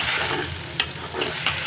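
Sabudana khichdi mixed with lemon juice sizzles softly in a pan, a continuous hiss broken by a few light spoon scrapes and taps.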